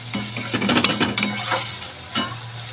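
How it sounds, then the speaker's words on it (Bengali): Curry masala sautéed in a pan on low heat, a low sizzle under several quick metallic scrapes and clinks as a spoon stirs against the pan, close and brief, with no talk. "এটাকে সেমভাবে আমি আবারও কষাতে থাকবো।"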